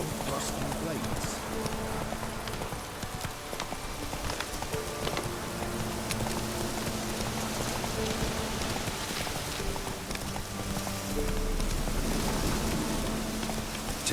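Steady rain in The Witcher 3 falls as a constant hiss across the whole stretch, with horse hooves clopping and occasional rumbles mixed in, while a voice speaks over it.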